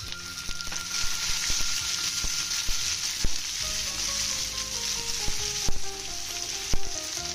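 Tomatoes frying in a pan with onion and capsicum that were browned earlier, giving a steady close sizzle with light stirring clicks and scrapes throughout.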